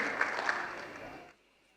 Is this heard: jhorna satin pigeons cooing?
no